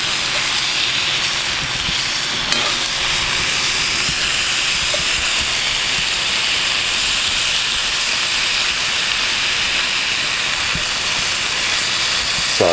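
Food cooking on a Lodge carbon steel pan over a wood-burning camp stove outdoors, a constant loud hissing sizzle held close and unbroken, with no talking.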